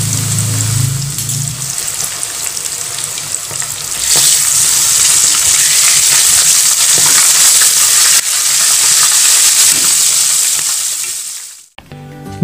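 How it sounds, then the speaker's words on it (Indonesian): Crispy cabbage frying in hot oil, a loud, steady sizzle and crackle that runs close and continuous, growing denser and brighter partway through before cutting off abruptly near the end. "Kita langsung goreng aja."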